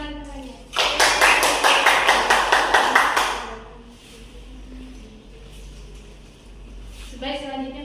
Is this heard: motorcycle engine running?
no